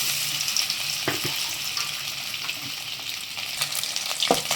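Fish frying in hot oil in a pan, giving a dense, continuous crackling sizzle with a few light clicks of utensils, steady and close.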